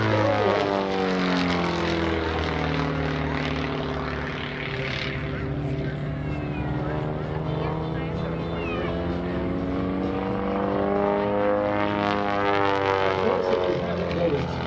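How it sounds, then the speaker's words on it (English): At an air show, an aerobatic propeller biplane dives at around 150 miles an hour. Its loud, continuous engine drone sweeps up and down in pitch as the plane passes, with an announcer talking over it. "Clemens Kuhlig from Stuart, Florida, dives in once again around 150 miles an hour for the jump."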